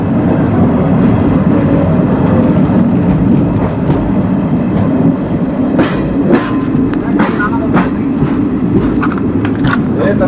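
A Puducherry to Kacheguda sleeper train rolls along the tracks, with a steady loud rumble of wheels and carriage noise throughout and a few sharper metallic clicks and squeals building toward the end.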